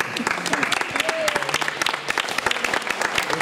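Lively audience clapping during a talk about British Isles singing, steady close claps filling the room with voices mixed in underneath.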